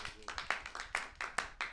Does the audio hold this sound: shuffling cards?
no